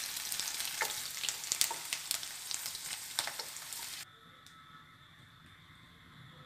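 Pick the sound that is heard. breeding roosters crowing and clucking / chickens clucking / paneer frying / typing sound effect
paneer frying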